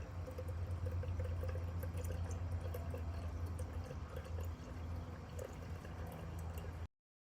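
Coolant pours steadily and close into the engine reservoir of a Jeep Wrangler JL with a 3.6L Pentastar engine, a continuous gurgling trickle that stops abruptly at the end.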